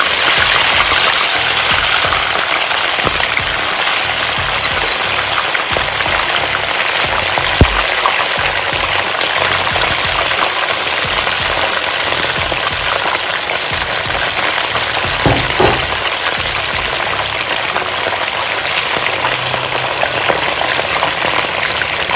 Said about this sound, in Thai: น้ำมันเริ่มร้อนแล้วค่ะใส่ปลาลงไปเลยนะคะ